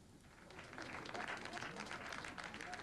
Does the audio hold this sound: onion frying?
no